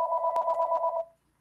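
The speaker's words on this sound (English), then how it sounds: "excuse the phone ringing" A telephone rings nearby during a public commission meeting, a steady trilling electronic tone lasting about a second before it stops.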